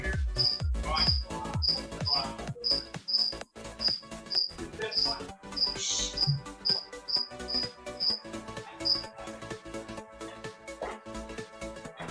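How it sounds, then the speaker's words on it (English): Crickets chirp through the background in short, evenly repeated bursts of high trilling, fairly faint against a louder music track that plays throughout. "The crickets in the background is a great ambience to this song."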